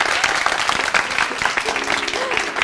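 Applause from a school audience at a university-run Spanish show, steady dense clapping throughout with faint voices mixed in.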